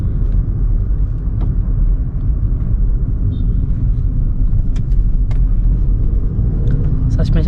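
Steady, loud engine drone and road rumble from inside a 2020 Honda City BS6 sedan driven hard with traction control and AC switched off, a continuous cabin roar throughout.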